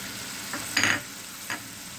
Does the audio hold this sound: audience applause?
no